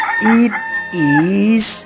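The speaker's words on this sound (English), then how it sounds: "rooster." A rooster crows loudly and up close in a single drawn-out call, with a brief spoken phrase just before it.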